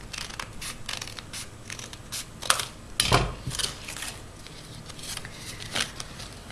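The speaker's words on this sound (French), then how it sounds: "Prenez une paire de ciseaux, puis vous découpez." Scissors snip through folded paper while making an origami snowflake, a run of short crisp cuts with one louder crunching cut midway, close and fairly quiet with no talking.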